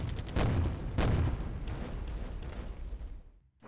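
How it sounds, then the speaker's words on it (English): Artillery bombardment in a wartime strategy video game: several heavy booming blasts in quick succession, loud and close, with rumbling decay that fades out toward the end. "Artillery bombardments continue."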